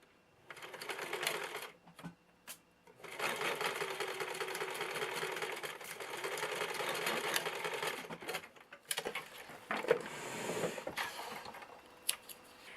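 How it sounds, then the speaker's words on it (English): An electric sewing machine stitches a seam across navy blue ribbon, its motor whirring in several runs of a few seconds each, broken by short pauses and clicks, close and fairly quiet. "And you're just going to simply stitch a small seam allowance across the end."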